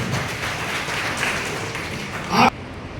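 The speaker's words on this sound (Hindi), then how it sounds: "विश्राम मीणा जी राजस्थान के अच्छे वक्ताओं में से हैं, उनके लिए आप ताली बजाएं" Brief applause from an audience at a memorial birth-anniversary event in Rajasthan, honouring a speaker. It sounds as a steady, moderately loud patter of many hands with no single claps standing out, and ends abruptly.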